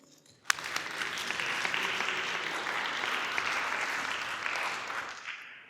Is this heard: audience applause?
yes